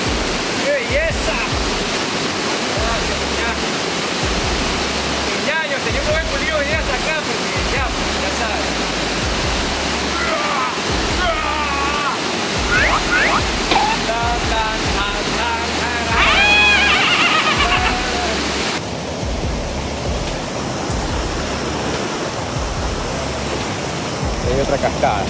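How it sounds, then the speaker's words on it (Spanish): Waterfalls in the Cañón del Diablo near Santo Domingo give a steady, loud rush of falling water that fills the whole clip, with voices speaking over it. "Qué belleza en las cascadas del diablo."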